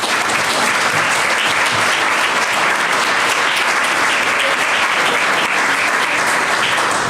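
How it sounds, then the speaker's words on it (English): Loud, sustained applause from an audience honoring award recipients at a Cedar Falls tourism awards ceremony, dense and steady clapping throughout with no talk over it. "Please join me in giving them one more round of applause."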